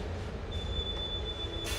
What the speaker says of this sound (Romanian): Asta e trenul care s-a anunțat întârzierii 30 de minute.